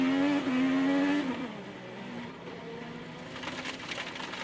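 A 2018 IndyCar's engine heard onboard, driven by Dixon, screams at high pitch and accelerates out of a corner, then drops into a quieter, rougher drone as the race continues.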